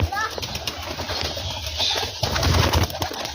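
Pigeons coo softly nearby with an occasional flutter of wings, mixed with a person talking in the background.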